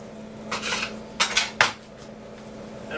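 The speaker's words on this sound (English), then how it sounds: "So I'm going to continue to slice this up." A knife works through herb roasted prime rib on a board, giving a few distinct scraping cuts and light clinks of metal against the surface, close by with no talking.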